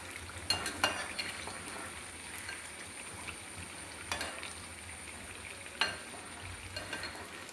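Idli pakoda bits sizzle and bubble in hot oil with a steady low crackle, broken by a few sharp clinks of a utensil as the pieces are turned over.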